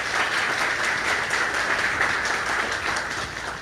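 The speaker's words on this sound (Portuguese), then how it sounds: "Uma salva de palmas aí para Sabrina" A crowd applauds a man's wife at a talk, a dense, steady wash of clapping that holds evenly for a few seconds before easing slightly at the end.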